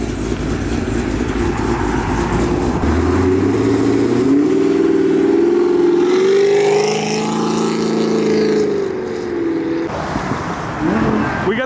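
A modified sixth-generation muscle car pulls away from a car meet, its engine revving loud and close, rising in a long climbing pull before it settles and fades, with faint crowd noise around it.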